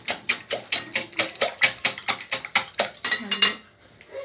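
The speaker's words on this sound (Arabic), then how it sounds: "غادي نبدا نطرب البيض مزيان" Eggs whisked for a cake batter in a bowl, a fast run of sharp, evenly spaced clinking strokes close by, about four per second, tailing off at the end.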